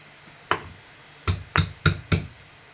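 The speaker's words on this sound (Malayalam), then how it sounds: "അടുത്ത് ഇഞ്ചി ചതച്ചെടുക്കാം." Ginger is crushed for a chayote tamarind curry with five sharp, close thuds, one isolated strike followed by four quicker blows in an uneven rhythm, with no talk.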